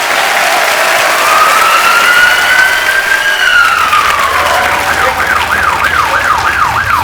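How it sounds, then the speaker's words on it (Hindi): Studio audience applause on a Hindi TV comedy show, a steady broad wash of clapping throughout with whistling, siren-like tones and whoops rising over it, loud and close. "जोरदार तालियां हो जाए एक बार"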